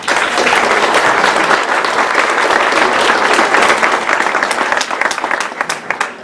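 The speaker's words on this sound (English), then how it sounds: "So please join me in a round of applause." An audience breaks into sustained applause at the opening of a health center, dense clapping from a crowd that stays loud and steady before beginning to thin out at the end.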